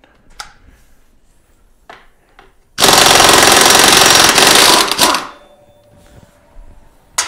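An impact wrench loosens a bolt with a 24mm socket on a 2008 Suzuki Burgman 650 Executive scooter, one loud rattling burst of about two seconds, close up, between a few sharp clicks and taps.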